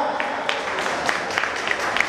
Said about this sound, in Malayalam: നല്ലൊരു കൈയടി പ്ലീസ്